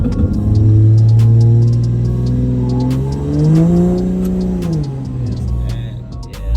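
Diesel-swapped Hoonitruck revving hard under acceleration, a loud close engine roar with rising pitch that dips at a gear shift and climbs again, rough rumble suggesting wheelspin.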